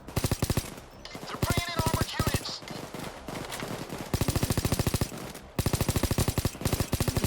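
Rapid bursts of submachine-gun fire in a Payday 2 shootout, loud and close, with dense rattling volleys broken by brief pauses and a few short gaps between strings of shots.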